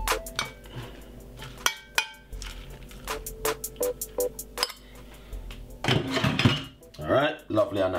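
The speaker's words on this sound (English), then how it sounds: "we're gonna simply scrape the sardine right on top of it like this" Utensils scrape a sardine onto mixed salad leaves, producing clinks, taps and knocks against a dish, then a louder burst of scraping clatter near the end. Everything is close.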